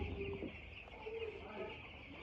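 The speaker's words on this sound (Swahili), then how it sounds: "Nimekuja huku kwa ajili ya kutizama kuku wangu." Chickens clucking at night in a coop, soft low clucks scattered through steady background noise, with a few brief calls standing out near the middle.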